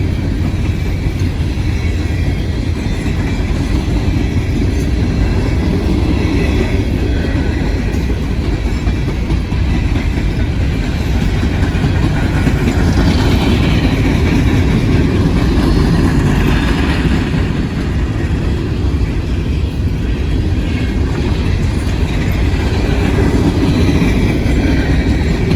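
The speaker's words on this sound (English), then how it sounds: "That's an empty coal train," A long empty coal train rolls past at Cresson, Pennsylvania, with a continuous loud rumble and clattering of wheels on rails, steady throughout and close by, with faint squeal at times.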